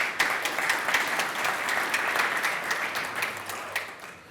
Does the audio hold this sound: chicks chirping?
no